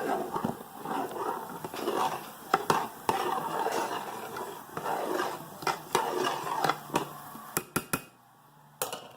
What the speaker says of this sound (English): So 3 cups of rice, 2 cups of coconut milk, and stir